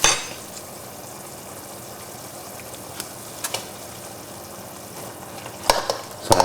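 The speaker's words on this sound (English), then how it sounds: "Now I'm going to, next of all, put in creme fraiche." Creme fraiche being stirred into a frying pan for a tarragon sauce with honey chicken, a soft steady sizzle punctuated by a few sharp clinks and scrapes of a utensil against the pan, no talking.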